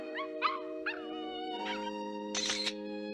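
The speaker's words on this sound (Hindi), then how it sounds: "अभी मैंने एक डॉग की आवाज सुनी।" A cartoon dog howling and yipping in short whining bursts, several separate cries over a steady musical tone, with a louder final yelp near the end; the sounds are moderately faint with no speech.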